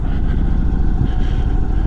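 A heavy, long 1900cc motorcycle engine rumbles steadily and loudly up close, with a dense low throb that holds throughout and no voices.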